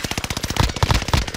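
PPSh submachine gun fired from the hip in Warzone, a rapid, loud, evenly spaced burst of shots throughout.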